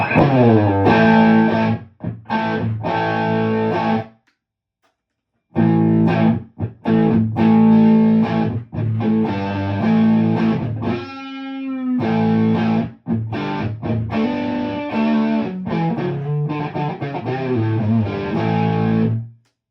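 Loud, thick distorted electric guitar through a Zendrive overdrive pedal plays chunky Marshall-type rhythm chords, with short pauses and a sustained, wavering note in the middle.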